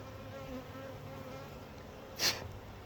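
Honeybees buzz faintly around an open hive box during frame handling, a low continuous drone with one brief, louder buzz as a single bee passes close.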